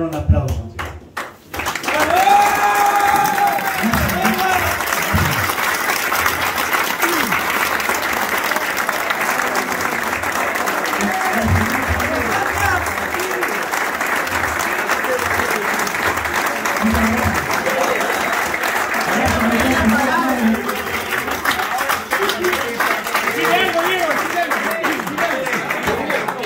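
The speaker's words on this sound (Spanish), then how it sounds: "le vamos a brindar un aplauso" Guests at a friends' dinner applaud a man who has stood up, long, hearty clapping from a roomful of people that swells quickly and carries on for over twenty seconds, with voices, shouts and chatter mixed in throughout.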